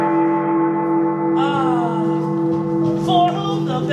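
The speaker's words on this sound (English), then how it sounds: "For whom the bell tolls." A deep bell tolls as a sustained metallic ring that slowly decays, a second higher chime entering partway through, loud and close in a staged haunted-attraction show.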